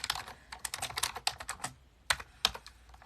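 Typing on a computer keyboard, with crisp, irregular clusters of key clicks close up and a few louder, sharper keystrokes near the end. Quiet background and no voices.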